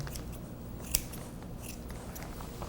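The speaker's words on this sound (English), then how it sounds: "I'm kind of holding my scissors at a 45-degree angle also." A single crisp snip of scissors, held at an angle, trimming the fur around a dog's front paw during grooming, sounding close and brief against a quiet background.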